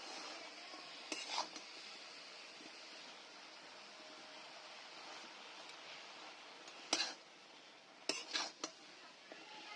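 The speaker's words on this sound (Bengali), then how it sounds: "ভালো করে সবগুলো মিশিয়ে ঢাকনা দিয়ে দেবো।" A spoon stirs salt, turmeric and spices into egg curry in a pan. Quiet scraping and a few sharp clinks of metal against the pan sound over a low steady background, with no voices.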